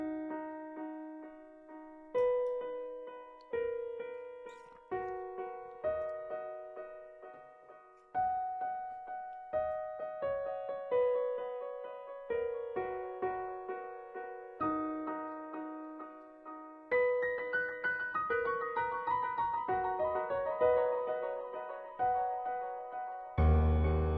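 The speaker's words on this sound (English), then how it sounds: "So it's a pretty simple piano, grand piano, nothing weird about it" Native Instruments grand piano loop playing a simple, clean melody of struck notes and chords, each decaying before the next, with denser phrases in the second half and a low note at the very end.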